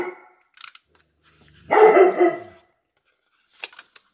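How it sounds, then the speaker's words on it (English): A dog gives one loud burst of barking indoors, a short cluster of woofs lasting about a second, with quiet handling sounds before and after. "Sorry about my dog. He barks at everything."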